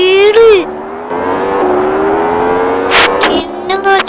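A modified car speeds along in the Extreme Car Driving Simulator video game, with a loud, sustained engine tone that rises, holds steady and revs again, while someone talks over it.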